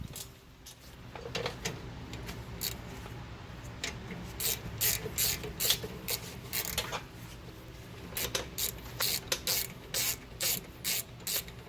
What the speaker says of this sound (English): I'm going to use my ratchet for the top up here.